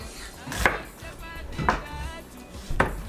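Three distinct knife chops on a cutting board, spaced about a second apart, as an onion is cut for a rice dish; close and sharp with quiet room noise between strikes.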